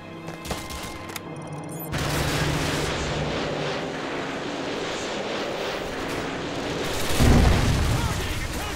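Explosions and gunfire in the video game Call of Duty: Modern Warfare 2, with heavy rumbling blasts and a dense battle din, the loudest boom swelling near the end.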